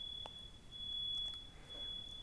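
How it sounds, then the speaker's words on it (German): A thin, steady high-pitched electronic beep hangs faintly in a room during a university study-information day talk, quiet and continuous with no voices. "Was piepst hier so komisch?"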